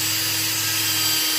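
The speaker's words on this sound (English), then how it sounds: "I've got the domed buffing wheel on the drill" A drill fitted with a domed buffing wheel hums steadily while it buffs a high-gloss finish on beech wood, giving a continuous, close, loud whir with a broad hiss of friction and no pauses.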